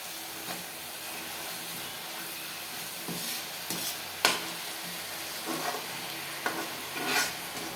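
Banana flower and drumstick leaves with egg stir-frying in a pan, a quiet steady sizzle broken by occasional scraping and clacking stirs, no talking.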